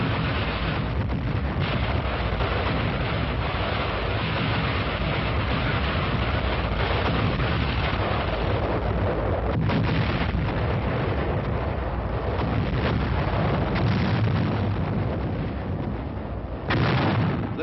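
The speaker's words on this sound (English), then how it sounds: "a new weapon came into use against the Germans: massed rocket fire" Massed rocket artillery fire from World War II roars continuously in a dense, rushing barrage with repeated thudding bursts, heard as a loud, noisy old film recording.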